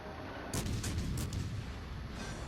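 In the naval battle game World of Warships Legends, a torpedo strike explodes as a deep boom that sets off a sustained rumbling roar. It follows a quieter stretch and is loud and full without any voice.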